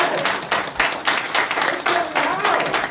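Congregation at a Sunday service applauding themselves, a dense wash of many hands clapping steadily for about three seconds, with a few voices mixed in.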